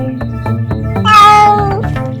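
A cartoon kitten gives one long, loud, close meow that rises and then falls, over steady background music.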